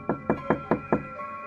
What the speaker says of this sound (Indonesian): Beliau langsung mengetuk pintunya sambil memanggil nama nenek.